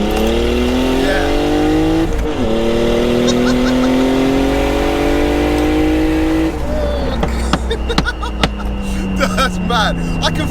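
A turbocharged BMW E36 323i accelerates hard in second gear, its loud engine note climbing steadily, dipping at a brief break, then climbing again before ending in sharp crackles and pops, close and continuous.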